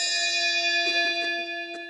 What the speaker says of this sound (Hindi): घंटी बार बार बज जाती है